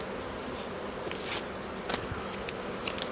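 Honey bees from a newly installed package buzz steadily at close range, a dense continuous hum with a few sharper passes of individual bees flying near.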